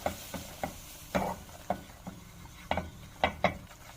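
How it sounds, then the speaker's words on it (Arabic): A spoon scrapes and taps against a pan as flour is stirred into melted butter, giving a quiet series of irregular knocks and scrapes close by, with no voices. "دلوقتي انا بقلب الدقيق بتاعي مع المادة الدهنية"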